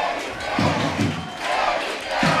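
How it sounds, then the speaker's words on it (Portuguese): Football crowd at a Catanduva FC versus Desportivo Brasil match chanting goalkeeper Felipe's name, rhythmic shouted bursts rising and falling across the stands, moderately loud and slightly distant. "Mais uma vez o nome do goleiro Felipe do Catanduva é gritado pela torcida."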